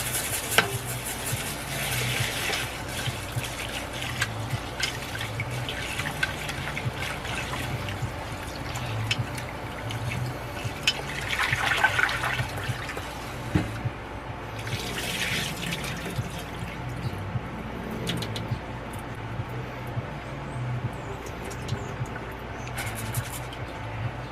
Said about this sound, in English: Okay, now to rinse the rice.